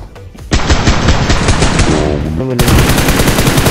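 Gunfire in the mobile battle royale game BGMI on the Sanhok map. Loud, rapid machine-gun bursts run almost continuously, with a brief pause before a sharper volley.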